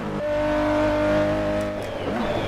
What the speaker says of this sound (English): a very whiny engine sound to a low rumble